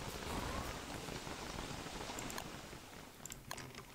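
Steady hiss of falling rain in the survival video game Don't Starve, a dense continuous patter filling the whole stretch with a few faint clicks near the end.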